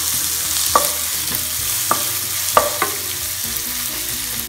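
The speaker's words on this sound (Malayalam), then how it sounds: "അതിലോട്ട് നമുക്ക് എടുത്തു വെച്ച സവാള ഇട്ടൊന്ന് വാട്ടിയെടുക്കാം." Sliced onions sauté in a hot pan for a samosa filling, giving a loud, continuous close sizzle broken by a few sharp scraping knocks as a utensil stirs them.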